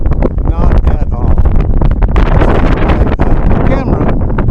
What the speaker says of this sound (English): It's kind of windy, but it's not hot at all.